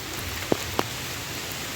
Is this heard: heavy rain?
yes